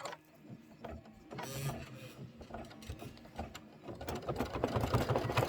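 Embroidery machine stitching a tack-down line for a pillow block, a steady mechanical whirring and clatter that builds louder toward the end.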